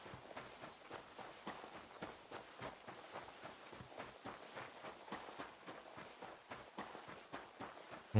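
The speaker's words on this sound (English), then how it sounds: "Was that someone riding off on a horse?" Rhythmic hoofbeats clop along steadily, a horse moving at a quick, even pace, fairly faint and with no voices, ending in a sudden louder burst.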